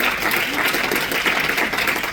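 Steady, dense applause from a church congregation during a Spanish-language sermon, a continuous close wash of clapping with no clear breaks.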